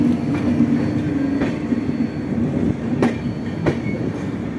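The Lucknow–Mumbai Pune Express stands at Kanpur Central station, with a steady railway rumble broken by a few sharp metallic clacks at uneven intervals, loud and close, with no talking.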